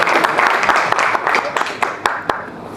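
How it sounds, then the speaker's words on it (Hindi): Audience applause at a product presentation, a burst of scattered claps over a few seconds, moderately loud and fading toward the end, with a voice speaking over it. "ताली बजा सकते हैं।"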